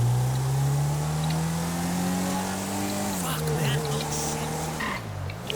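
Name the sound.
car engine revving, from a video game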